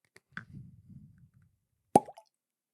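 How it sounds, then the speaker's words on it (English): A cork pops out of a 99-proof Found North Goldfinch whisky bottle: soft handling and rustling first, then a single sharp, close pop with a brief ring. "Pretty good cork pop."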